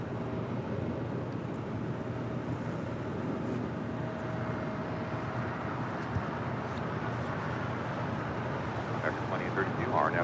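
An Alaska Airlines Boeing 737 MAX 9 rolls down the runway for takeoff at LAX, a broad steady jet roar heard from a distance that builds slightly toward the end, with no voices over it.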